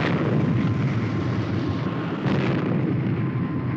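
Jet engines of the Supercar fictional vehicle firing with a loud, continuous roaring rush, broadband and steady, swelling slightly partway through, with no voices.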